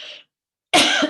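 A short, close throat clearing: a faint rasp, a moment of silence, then a louder harsh cough-like clearing.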